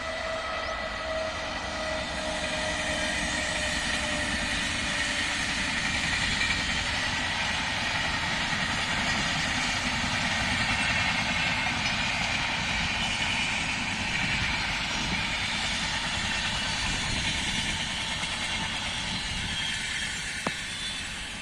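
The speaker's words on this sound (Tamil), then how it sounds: "இந்த பக்கம் ட்ரெயின்." A train rumbles past at a moderate distance near GST Road, a steady broad roar of engine and rolling wagons that holds for about twenty seconds.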